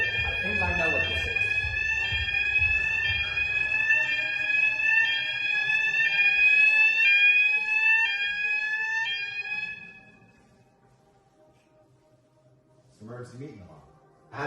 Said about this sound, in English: there's an alarm going off throughout the whole house